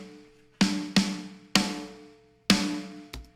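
Four loud, sharp snare drum sample hits in an uneven rhythm, each with a bright crack and a short ringing decay, followed by a smaller fifth hit, heard alone with no talking, from a drum mix of a rock track.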